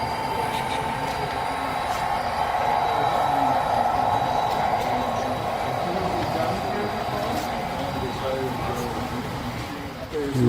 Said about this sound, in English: We got a DDA 40X, number 6936. Just pulling along heritage train.